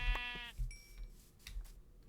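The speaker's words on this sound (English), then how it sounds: "Come here, sheep." A sheep bleats in a Minecraft game world, a short synthetic wavering bleat followed by a couple of fainter game sounds, close and fairly quiet with no talking.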